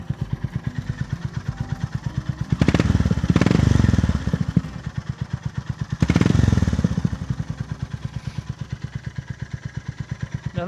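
Honda GB350 motorcycle fitted with a Black Widow 200mm carbon exhaust tip, baffle removed, idling with a steady close thumping beat, broken by two loud, aggressive revs before settling back to idle.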